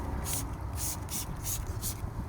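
Wash solution is sprayed onto a dirty BMW M2 in several quick hissing bursts, a steady rhythm of short sprays at close range.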